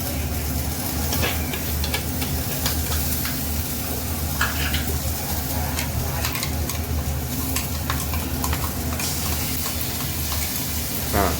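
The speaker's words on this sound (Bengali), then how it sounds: "এটা মশলাটা আমরা মিশিয়ে কাঁচা গন্ধটা একটু মেরে নিই" A spice paste of ginger, garlic, green chilli and tomato fries in a pan as a spoon stirs it, giving a constant close sizzle with repeated scraping and stirring strokes throughout, and no talk.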